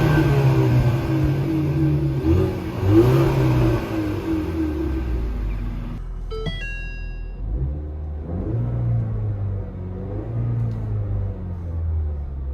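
A 2020 Ford Mustang EcoBoost engine revs up and down repeatedly, a deep rumbling roar close by, with a brief higher electronic chime partway through.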